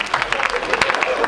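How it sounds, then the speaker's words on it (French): A studio audience claps and applauds steadily for a moment, a dense crackle of many hands with crowd noise mixed in. "Applaudissements nourris."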